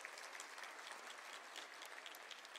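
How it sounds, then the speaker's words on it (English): A graduation ceremony audience applauds in a steady, dense wash of clapping that sounds moderately distant and fills the whole stretch without voices. "Can we give her a round of applause?"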